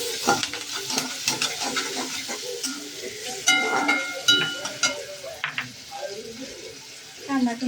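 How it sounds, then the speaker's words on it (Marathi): Onion and tomato sizzle and crackle while frying in a pan, with repeated stirring scrapes and clinks, close and moderately loud, a voice speaking briefly over the cooking. "कांदा टोमॅटो चांगला भाजून घ्यायचा"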